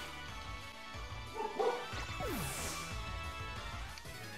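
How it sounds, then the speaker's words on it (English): A dog barks a few times in the room, sharp yips and a louder crash-like bark near the middle, over a low background of game music. "Apologies for the dog."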